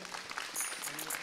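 Studio audience clapping at an Onam special television program, a short burst of scattered hand claps with a voice talking over it.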